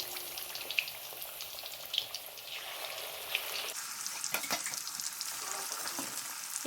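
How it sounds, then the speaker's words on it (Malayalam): Chicken pieces shallow frying in hot oil for a biryani, a steady close crackling sizzle throughout with occasional sharper pops and spatters, no voices. "ഓയിൽ ചൂടായതിന് ശേഷം ഓരോ പീസായിട്ട് നമുക്ക് വെച്ച് കൊടുക്കാം."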